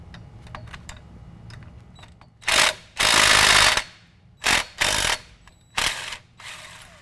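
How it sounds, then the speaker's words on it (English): An 11mm socket on a ratchet removing U-joint retaining nuts on a 2017 Silverado 2500 HD drive shaft: several loud, close bursts of rapid ratcheting clicks separated by short pauses and light metallic handling noises. "Now we're going to use an 11mm to remove the retaining nuts that hold the U-joint together."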